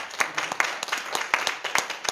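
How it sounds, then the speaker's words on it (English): A church congregation claps for the Lord in short scattered bursts, uneven and fairly close, with sharp individual claps rather than a sustained roar. "give the Lord a clap"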